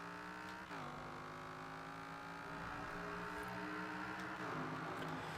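AMC Gremlin with a V10 engine swap in Forza Horizon 4, accelerating hard with a steady, buzzing engine drone that climbs in pitch through each gear with brief shift dips, loud and continuous.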